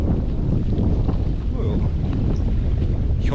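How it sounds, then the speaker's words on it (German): Strong wind buffets the microphone on a lake in the Feldberg lake district (Schmaler Luzin), a loud, steady low rumble of gusts and water noise filling the whole stretch without pause. "Und es wird immer windiger."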